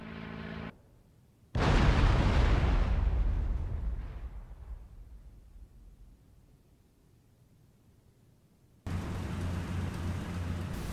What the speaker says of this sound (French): l'avion tombe comme une pierre et percute